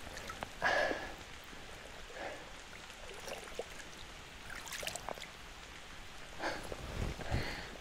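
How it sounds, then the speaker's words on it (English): Heavy rain lashes down on a salmon river in Ireland, a steady broadband hiss of drops hitting water that persists throughout, with a few brief louder bursts of splashing or movement close by. "The rain came lashing down on us."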